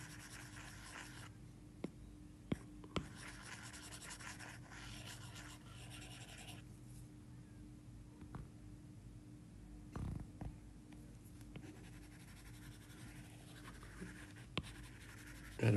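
A brush or stylus rubs and scratches repeatedly while drawing texture on a cucumber illustration, a faint, close, continuous scratching with a few light taps and no talk.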